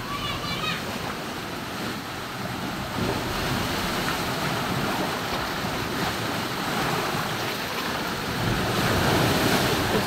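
Strong sea waves crashing on a shore, a loud continuous roar of surf with wind buffeting the microphone and building toward the end, with people talking over it.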